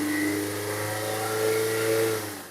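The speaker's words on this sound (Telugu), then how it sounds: "సరే రేస్ చేసి చూపిస్తాను, ఒకసారి చూడండి." A 2016 Maruti Suzuki Brezza VDI diesel engine with about 129,000 km on it revs up and holds steady, a close, loud mid-pitched drone that rises then tapers off at the end.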